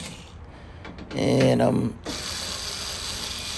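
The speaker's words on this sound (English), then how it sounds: "So I'm pulling out my electric screwdriver with my Phillips head bit." An electric screwdriver fitted with a Phillips bit whirs briefly while backing out the screws holding a clothes dryer's lid, a short mechanical burst in the middle with someone speaking just before it.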